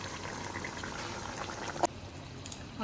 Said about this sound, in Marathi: 1 ग्लास भरून गरम पाणी टाकणार आहे त्याच्यात